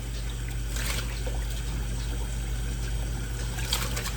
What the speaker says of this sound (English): I run this cold water